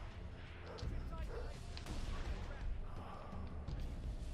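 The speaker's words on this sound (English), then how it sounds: "Oh, someone's shooting me" Gunfire in Halo 3: ODST on Xbox 360, a dense run of rapid shots and booming impacts that stays loud and steady throughout, with a game soundtrack underneath.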